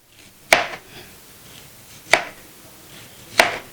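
A knife chops an onion for a salad on a board: three sharp, separate strikes spaced about 1.5 seconds apart, close and crisp, with a quiet room between them.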